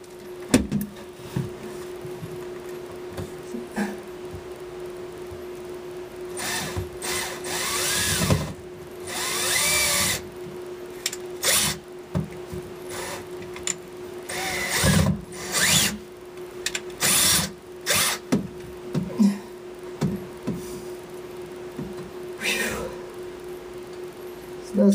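Power drill driving big screws to mount a Sundown Z15 subwoofer, heard in repeated bursts of whirring spread throughout, alternating with quieter gaps and a steady background hum.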